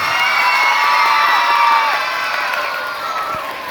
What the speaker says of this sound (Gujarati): એમના જોરદાર પરફોર્મન્સ માટે, એમના કોન્ફિડન્સ માટે જોરદાર તાળીઓ થઈ જાય.